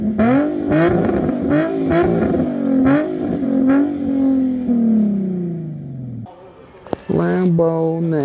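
A Lamborghini sports car exhaust revs up loudly and then settles, its pitch rising and falling, followed by a brief sharp rev near the end.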